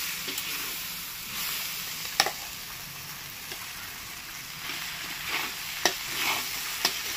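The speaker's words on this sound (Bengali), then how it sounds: "এই দেখো সমানে নেড়ে যাচ্ছি" Shrimp and coconut stirred constantly in a frying pan, with a soft continuous sizzle and occasional sharp scrapes and clinks of the spatula against the pan.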